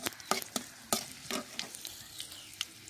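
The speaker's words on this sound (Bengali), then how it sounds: "রসুনটা আমি খুব একটা ভাজবো না, যেহেতু আমি চাটনি বানাবো সেজন্য রসুনটা হালকা ভেজে নিব।" Garlic lightly frying in oil for a tomato chutney, a close, continuous sizzle with repeated crisp scraping stirs, some bunched together, others spaced out, and no voices.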